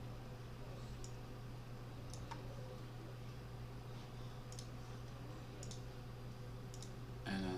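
Quiet computer mouse clicks sound while working in backup software, a few faint single and double clicks spaced apart over a steady low hum.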